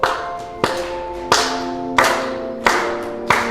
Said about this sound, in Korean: 박수 치면서